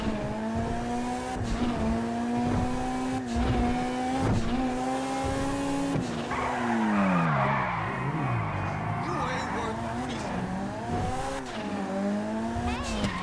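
Karin Kuruma, a short compact car in a GTA video game, revs its engine in a steady climbing drone that bends and sweeps as it drifts, with a burst of tire squeal and skidding in the middle, loud and close throughout.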